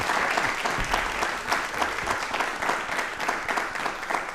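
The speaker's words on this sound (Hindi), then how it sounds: "एक बार जोरदार हो जाएं प्लीज सर के लिए" Audience applause for Professor Ramesh K. Arora on a televised talk show, a dense, steady crowd clapping that holds evenly throughout at fairly close range, with no voices over it.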